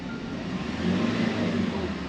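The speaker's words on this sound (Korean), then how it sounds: "자, 이거를 2가 조금 넘도록 가속 페달을 밟아볼게요." A manual-transmission car engine revs a little as the accelerator is pressed past 2,000 rpm during a driving lesson. The hum is steady and moderately loud and rises only slightly.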